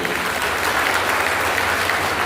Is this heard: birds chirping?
no